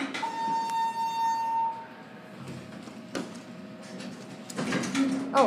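An Otis elevator door at a Sports Authority store in San Diego slides open with a steady hum and a tone, followed by clunks and a faint chime, while people talk nearby.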